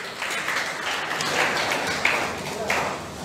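A crowd at a celebration for NEET-2020 toppers applauds steadily in a dense, continuous wash of clapping, with a few sharper claps standing out, and speech faintly mixed in.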